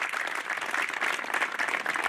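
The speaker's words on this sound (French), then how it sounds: "Alors je vous demande de l'applaudir très fort." An audience at a gathering for former cable-car staff in Auron claps steadily, a sustained wash of applause from many hands throughout.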